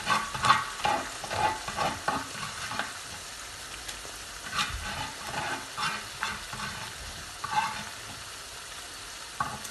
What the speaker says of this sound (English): At this point, I'll keep stirring.